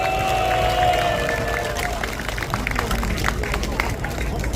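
A crowd at a Marine Corps veterans' rally near the National Assembly station applauds, a dense patter of clapping with murmur, while someone speaks over it through a loudspeaker.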